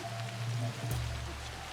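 Rain in the video game Assassin's Creed Shadows, a steady hiss of rainfall on surfaces with a low rumble and tonal game sounds underneath, continuous and moderately loud, with no talking.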